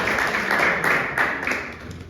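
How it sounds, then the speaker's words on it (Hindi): A church congregation at a Sunday service claps in thanks to God, a dense, moderately loud patter of many hands that continues steadily throughout. "आइए हम लोग एक बार ताली बजाकर परमेश्वर"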